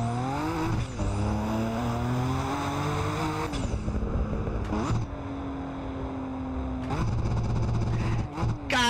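A car engine in a racing video game revs hard through repeated rising sweeps, each climb cut off with sharp exhaust pops and crackles as gears change, loud and close.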